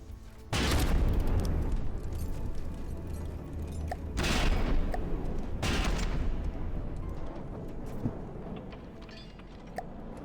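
Continuous battle din of booming explosions and rapid gunfire in the game From the Depths, with several heavy blasts standing out from the dense roar, loud throughout and no talking.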